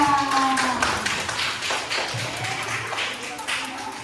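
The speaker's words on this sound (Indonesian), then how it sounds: "Sekarang kita kasih tepuk tangan dulu untuk kelompok 2." Students in a classroom give a scattered round of applause for a group, with individual sharp claps standing out in an uneven, loose rhythm and a few faint background sounds.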